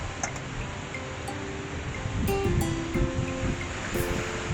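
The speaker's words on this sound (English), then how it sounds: "And there's even more water coming through now." Water rushes steadily out through the sluices of a lock on the Thames at Reading, a constant broad roar with faint ticking and small knocks in the background.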